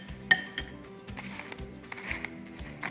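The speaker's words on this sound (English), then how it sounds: "now I'm going to mix" Spam fritter ingredients with breadcrumbs are stirred in a bowl, a quiet sequence of clinks and scrapes of utensil against the bowl at an uneven rhythm, close by.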